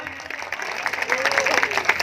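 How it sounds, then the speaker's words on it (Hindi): A crowd at a lecture gathering breaks into loud applause, a dense rising patter of many hands, with a voice faintly audible through it. "एक बार जोरदार तालियां।"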